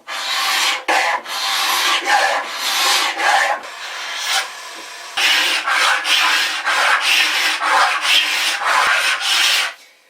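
Repeated rasping strokes of a Bahco carbide scraper dragged across a wooden boat's forehatch, steady back-and-forth rhythm, close and loud, with a brief softer pause midway.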